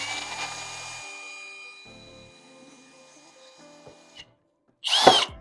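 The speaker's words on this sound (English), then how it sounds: "you're still drilling into the bottom of the box anyway" A power drill winds down after drilling into the bottom of a box, its whine slowly fading, followed by a few light knocks, a brief silence, then a sharp, loud burst of drilling that spins up close by.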